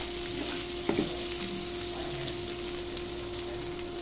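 Potatoes frying in a pan for a fasting-day sago breakfast, with a constant close sizzle and an occasional stir or scrape.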